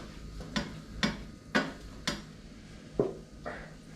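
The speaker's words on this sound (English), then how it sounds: "Now I've been pretty much stirring the cornmeal mixture up here pretty good" A spoon scrapes and taps against a pan while stirring a cornmeal roux mixture, giving about six evenly spaced knocks at a slow, steady rhythm, close and fairly quiet.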